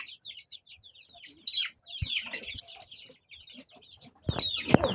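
Several chickens cluck in short, irregular bursts inside a village coop where a few hens sit brooding eggs, with a louder flurry near the end and no talk.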